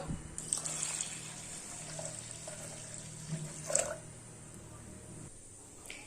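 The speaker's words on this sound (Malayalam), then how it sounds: "ഇനി ഇതിലേക്ക് പരിപ്പ് വേവാൻ ആവശ്യത്തിനുള്ള വെള്ളം ചേർത്ത് കൊടുക്കാം." Water pours steadily into a pressure cooker with lentils for dal, a soft, continuous rushing at low volume, with a brief clink near the end.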